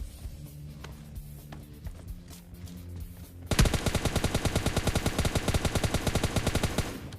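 An M4 rifle in the video game PUBG Lite fires a long, steady automatic burst of rapid, loud shots. A quieter stretch of game ambience comes first, with no talking.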